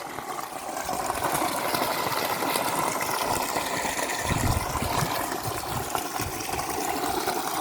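Borewell water flows across a coconut farm with a steady, broad rushing hiss, like a running pump outlet, that stays even and moderately loud from start to end.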